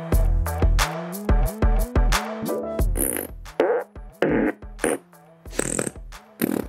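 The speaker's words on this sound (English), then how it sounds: "we've taken some of our fart sounds we recorded earlier and we've sliced them up to make short little clips" Short recorded fart clips play back through a speaker when pressure pads on stairs are stepped on, a rapid run of loud, separate blasts with buzzy pitch sweeps and squelchy bursts and brief gaps between them.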